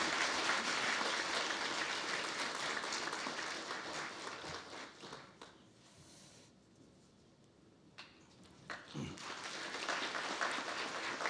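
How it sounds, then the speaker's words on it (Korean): Audience applause fills a lecture hall at a National Assembly humanities academy event, a dense steady clatter of clapping that thins briefly in the middle before swelling again. "강사님을 박수로 환영해 주시기 바랍니다"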